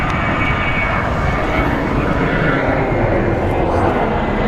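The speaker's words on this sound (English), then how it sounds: "So let's go take a look at this American Airlines 737." An American Airlines Boeing 737 jet airliner at Phoenix Sky Harbor International Airport, a loud, steady roaring engine rumble filling the whole stretch, close and continuous.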